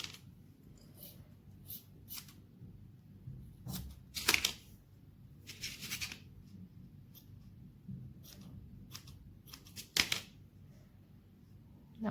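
Small scissors trim the thread ends of a tassel, with sharp intermittent snips and rustling close by, spaced irregularly over quiet background.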